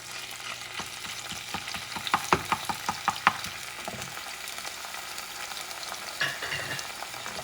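Sofrito frying in a pot as it is stirred for Puerto Rican-style pigeon pea stew, a steady sizzle broken by a quick series of spoon scrapes and taps, then settling back into crackling.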